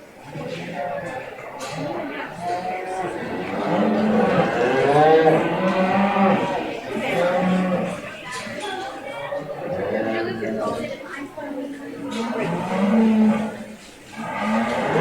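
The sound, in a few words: Black Angus and Hereford cattle mooing at a 4H show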